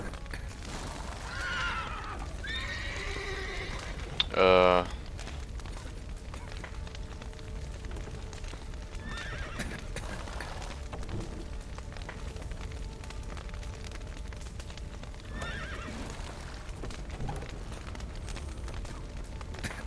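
Horses in The Witcher 3: Wild Hunt: one whinnies loudly, followed by other fainter neighs scattered over a low, steady rumbling background.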